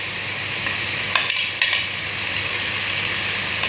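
Onions drop into a hot pan for a moringa flower and chicken dish, frying with a steady bright sizzle, and a couple of sharp stirring clatters cut in partway through.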